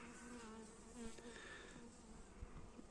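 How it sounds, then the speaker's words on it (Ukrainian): A bee buzzes close by, its drone wavering in pitch as it circles and darts near the listener. "Якась кидається бджола."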